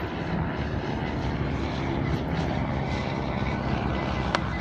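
A Waco YMF propeller biplane and other aircraft drone steadily overhead at a flying circus air show, a continuous loud engine roar with no speech over it.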